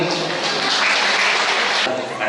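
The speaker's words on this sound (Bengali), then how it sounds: "সোমনাথের জন্য একটা জোরে হাততালি হোক" Audience applause for a poetry recitation at a Rabindra Jayanti celebration, a dense steady burst of many hands clapping throughout, close and loud, with talk mixed in and a brief dip near the end.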